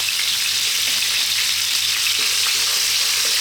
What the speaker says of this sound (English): fry it for like sort of 4 minutes